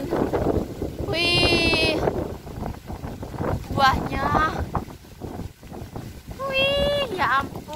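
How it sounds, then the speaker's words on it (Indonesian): Strong gusty wind buffets the microphone outdoors beside a roadside fruit tree laden with cherries and purple plums, a continuous low rumble running under a person talking and exclaiming throughout. "walaupun berangin sekali ya"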